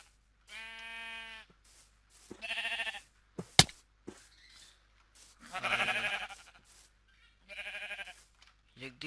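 Goats in the Minecraft video game bleat in several short, wavering calls spread across the stretch, moderately loud with brief gaps between.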